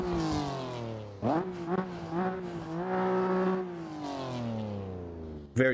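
Outside view of a 2021 BMW M4 in the Assetto Corsa racing game, its raspy engine revving up and down through several gear changes, with pitch sweeping higher and falling back, loud and alone.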